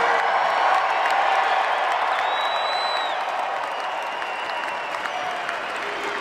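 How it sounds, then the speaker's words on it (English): A large arena crowd cheers and applauds at the Phoenix Suns Ring of Honor ceremony, with sustained clapping and scattered whoops and whistles, slowly easing in loudness. "cheering, chanting."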